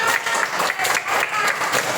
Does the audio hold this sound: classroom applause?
yes